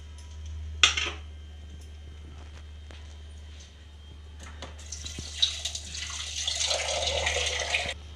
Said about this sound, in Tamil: தண்ணி தேவையான அளவுக்கு ஊற்றிடுறோம்.